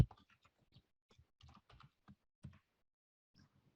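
Typing on a computer keyboard, light scattered keystroke clicks at an irregular pace in a quiet room, close and fairly soft, with no speech.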